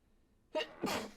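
A single sharp sneeze, a quick breathy intake followed by a loud burst, close by with no talking around it.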